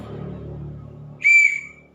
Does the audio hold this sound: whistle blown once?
yes